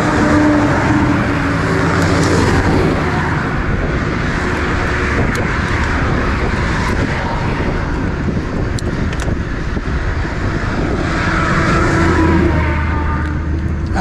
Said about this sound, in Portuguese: Deixa o caminhão passar.